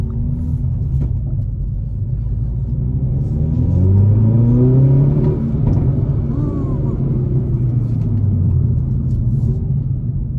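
A 2022 Hyundai Veloster N with a 6-speed manual revs up and holds a deep, throaty exhaust drone, pitch rising and falling steadily from close by.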